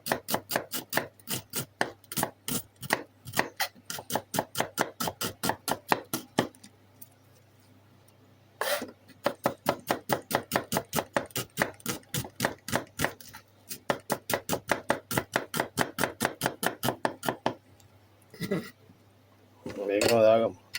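A knife chopping onions on a board in steady, rapid runs of close, crisp strokes, broken by short pauses between batches, with a brief voice near the end.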